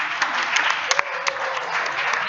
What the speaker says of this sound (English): all the Germans are clapping